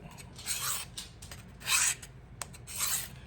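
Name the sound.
knife being pulled across a sharpening stone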